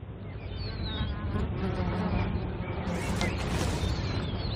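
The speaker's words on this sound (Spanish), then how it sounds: "Las moscas acuden atraídas a las heridas que nunca cicatrizan" Flies buzzing steadily and close by, drawn to an animal's open wounds, a dense droning hum with wavering whines rising and falling throughout.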